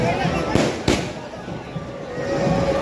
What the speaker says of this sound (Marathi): इथं आता जेवढे फटाके आणलेले सगळे फोडतात